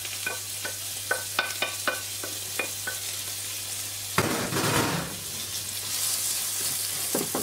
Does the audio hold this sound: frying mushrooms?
yes